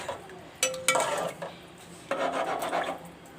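A metal spoon scraping and clanking against a cooking pot while beef pulao rice is stirred, a few sharp scrapes followed by bursts of rasping stirring, fairly close and moderately quiet.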